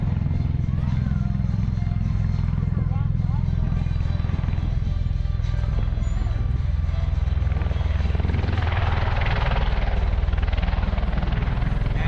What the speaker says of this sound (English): Touching down here at America's Air Station, tilting the prop rotors forward again for a quick touch and go.